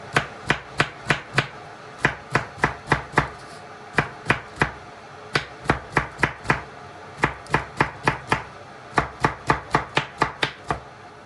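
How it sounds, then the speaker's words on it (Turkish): Peppers being chopped with a knife on a board, a crisp, close run of rapid rhythmic knocks in several bursts with brief pauses between them. "Şimdi onlar kavrulurken ben biberlerimi doğruyorum."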